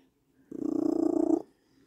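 A cat purrs loudly and close by, one burst of rapid rhythmic rumbling lasting about a second that starts and stops abruptly, with quiet on either side.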